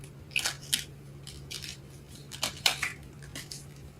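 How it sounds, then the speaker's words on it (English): Tarot cards are shuffled by hand in a series of short papery riffles and snaps, close and fairly quiet, spread unevenly across a few seconds. "Shuffling these cards are hard."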